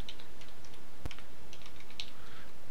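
A command is typed on a computer keyboard, a quick sparse run of light key clicks with one firmer tap partway, close and steady against faint room hiss.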